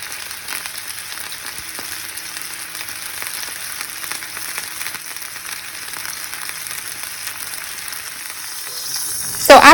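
A thick rib eye steak frying in a hot pan, a steady dense sizzle that crackles continuously at close range, ending in a louder burst of spitting and clatter.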